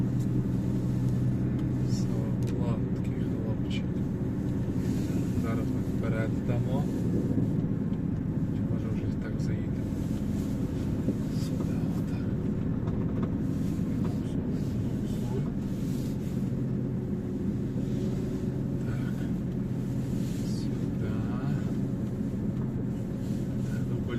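A MAN truck with a jammed wheel, driving around a factory yard, its diesel engine giving a steady, heavy rumble throughout while someone talks encouragingly over it.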